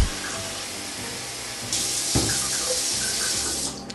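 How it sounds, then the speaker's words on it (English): Tap water runs steadily and loudly into a pot holding sorrel for a Jamaican sorrel drink, a continuous splashing rush that shifts in tone partway through as the pot fills. "Now we're gonna add some water."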